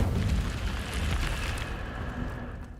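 The Incendio fire spell cast in Hogwarts Legacy: a dense, roaring burst with a low rumble that stays loud for about two seconds, then fades.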